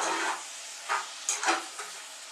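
Smoked lardons sizzle and hiss in a pan, a bright crackling fry punctuated by a few louder bursts as they are stirred, with no talking.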